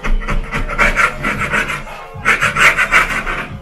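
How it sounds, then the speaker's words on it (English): Old wallpaper is scraped off a house wall with a tool, producing rhythmic, close raspy strokes in two quick bursts separated by a brief pause. "I want to finish scraping the wallpaper off"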